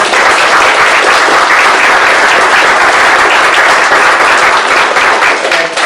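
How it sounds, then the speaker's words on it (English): Sustained, loud audience applause fills a hall at a HUD event honoring Senator Reed, a thick even roar of many hands clapping without pause for several seconds. "Please, let's give him a round of applause for all that he did."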